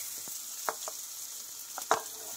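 Chopped onions, two of them, drop into hot oil for a shrimp bhuna, giving a steady faint sizzle with a few soft clatters and stirring taps, no voices.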